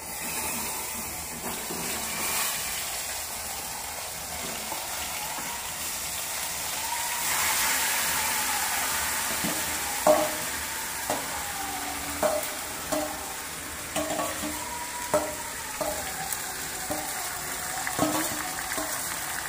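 Chicken pieces being stir-fried for kosha in a pan, a steady sizzle that swells midway, then repeated sharp spatula scrapes and knocks against the metal, close and without talk.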